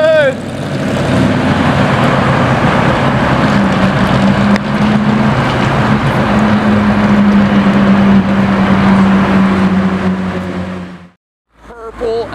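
Purple Honda NSX sports car driving close by, a steady loud engine drone holding for about eleven seconds before cutting off abruptly, with traffic-like noise and no talk.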